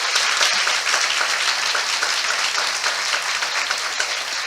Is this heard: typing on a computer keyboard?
no